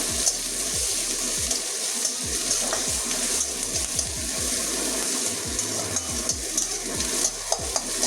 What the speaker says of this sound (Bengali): কতগুলো রসুন ছেঁটা করে নিয়েছি, এটাও দিয়ে দিচ্ছি, পেঁয়াজের সঙ্গে ভেজে নেব।